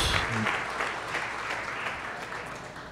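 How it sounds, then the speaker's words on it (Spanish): A church congregation claps together during a service, a continuous moderate wash of applause with a brief voice at the very start, fading slightly toward the end. "Un aplauso también a ellas,"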